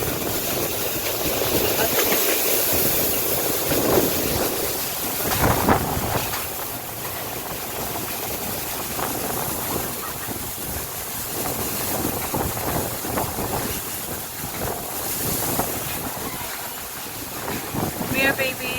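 Strong typhoon Uwan wind buffets a small farm, a steady broadband roar with gusts swelling and easing throughout, loud and close, with microphone buffeting and occasional voices faintly under it.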